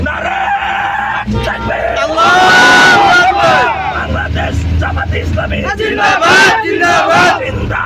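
A crowd at a Bangladesh Jamaat-e-Islami gathering shouts a political slogan in loud unison. Surging voices rise and fall over a few seconds, with one leader calling out and the group answering.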